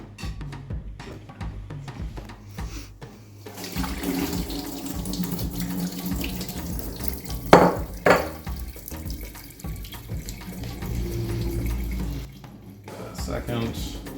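Cooked spinach poured from a pot through a metal colander in a home kitchen, a steady rushing splash of water with a brief louder clatter in the middle, and someone talking over it.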